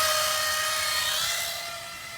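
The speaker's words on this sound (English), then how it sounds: "start doing the drilling on this little piece with the intercooler" A steady, high-pitched drill whine runs close by without pause while drilling a small metal intercooler mounting piece, easing slightly in loudness toward the end.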